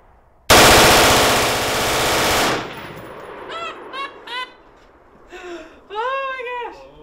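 A firearm fires at an outdoor range in one long, loud burst of rapid automatic fire lasting about two seconds, followed by quieter honk-like squeals and voices.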